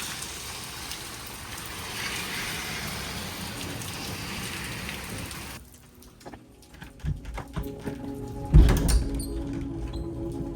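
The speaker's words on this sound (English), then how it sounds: "I know it's raining out there" Steady rain hiss fills the first half, then quieter with scattered drips and a few knocks and thumps nearby.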